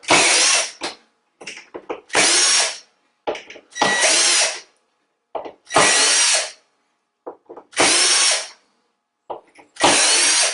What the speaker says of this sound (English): you have to remove the 6 screws to get the plate up